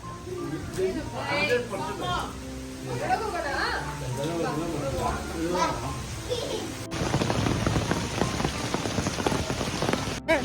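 Heavy rain patters steadily throughout while people talk over it, the downpour growing denser and louder toward the end.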